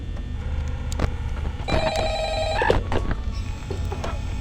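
A telephone rings inside the Five Nights at Freddy's video game, a steady repeating electronic ring that sounds loud and close, with no talk over it.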